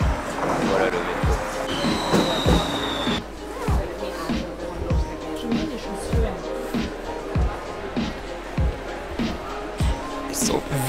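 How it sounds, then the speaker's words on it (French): A Paris metro train pulls in with a regular clacking beat of wheels over rail joints and a brief high squeal early on, close and loud, while people talk nearby. "Voilà le métro."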